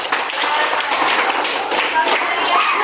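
A school class claps for a student group after a lesson on vertebrates and invertebrates, a brisk burst of close clapping in a room with some voices mixed in.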